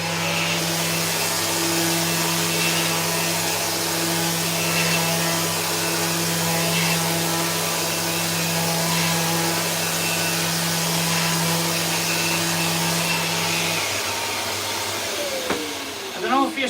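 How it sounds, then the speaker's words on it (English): A steady, loud power-sander whine on oak veneer with a constant motor hum runs throughout, cutting off near the end, followed by a few short knocks. "when you're sanding on this table, there's not a lot of movement"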